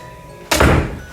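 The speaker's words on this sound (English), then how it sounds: "Oop, I didn't mean to slam the door." A door slams shut indoors with a single sharp, loud thud followed by a brief rumbling decay, close by.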